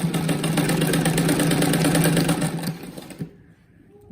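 A sewing machine stitches bias binding onto the edge of a fabric-scrap rag rug, running in a steady, close, rapid mechanical chatter for about three seconds before stopping abruptly into near silence.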